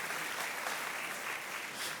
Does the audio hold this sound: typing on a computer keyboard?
no